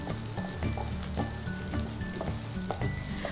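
Green chilies and garlic sizzling in a pan for sweet and sour eggplant, with a steady fry under regular rhythmic scrapes and taps of a spoon stirring, close and without speech.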